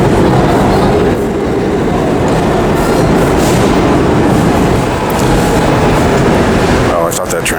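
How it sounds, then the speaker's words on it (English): An elevated subway train passes: a loud, continuous rumble of wheels on track fills the whole stretch, ending in a few squealing, clattering bursts. "Oh, I thought that train was approaching here."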